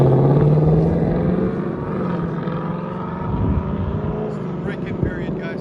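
Loud Mustang exhaust with an MBRP X5 resonator delete, a steady rumbling drone with a deeper low note at the start, close and sustained, held back during break-in.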